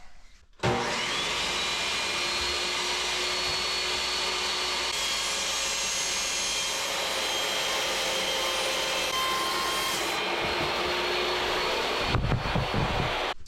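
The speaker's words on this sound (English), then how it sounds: "a nice carbide table saw blade will happily cut aluminum" A carbide table saw blade cuts aluminum strips, a loud continuous whining roar with a steady pitched tone that holds for several seconds before the blade winds down at the end.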